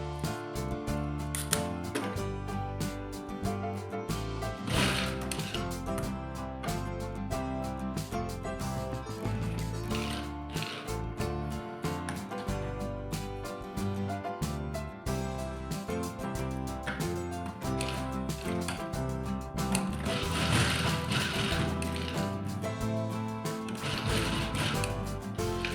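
A sewing machine stitches a ladies shirt with a continuous, dense mechanical clatter that runs steadily up close for the whole stretch, with slight surges in speed.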